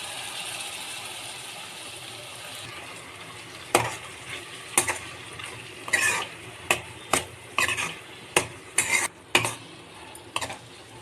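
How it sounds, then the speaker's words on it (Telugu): Tomato puree added to a frying pan of browned onions, in a dish with drumsticks and mushrooms, stirred with a spatula: soft sizzling under a run of sharp, repeated scraping clicks against the pan. "ఇప్పుడు మనం టమాటా ఇందాక మిక్సీ వేసుకొని ప్యూరీ చేసి పెట్టుకున్నాం కదా, ఆ ప్యూరీ వేసేసుకుందాం."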